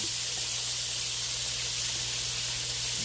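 Food sizzles steadily in a hot frying pan after being flipped, a continuous close hiss with a faint low hum underneath and no talk.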